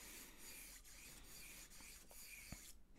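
Rosin cake rubbed up and down the hair of a double bass bow, a steady dry rasping scrape with a few brief pauses and strokes, close and fairly quiet.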